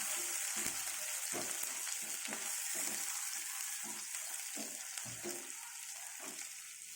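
Onions and curry leaves frying in a pan for tomato thokku: a constant bright sizzle with regular scraping strokes of a spoon stirring at an even pace, close and moderately loud, no voices.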